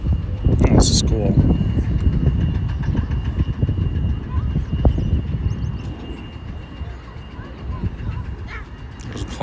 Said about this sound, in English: There's a train going by, going towards downtown. You can see a bunch of boxcars and stuff.